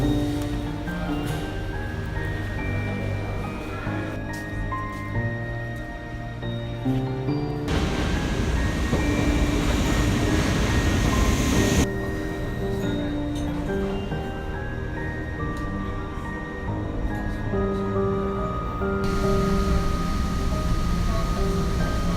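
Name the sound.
train ride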